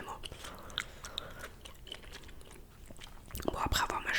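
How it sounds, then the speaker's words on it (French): True Gum chewing gum being chewed close up in soft, wet, irregular smacks and crunches, growing louder and busier near the end, with faint whispering between chews. "après avoir mâché pendant une bonne grosse minute"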